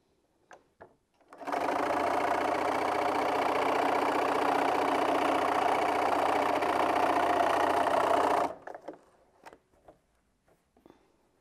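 A sewing machine stitches a line across an insulated placemat in one steady, close, continuous whir lasting several seconds. A few soft clicks and handling sounds come before and after.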